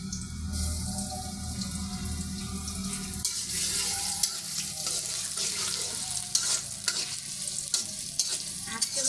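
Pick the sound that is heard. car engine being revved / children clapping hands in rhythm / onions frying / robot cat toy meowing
onions frying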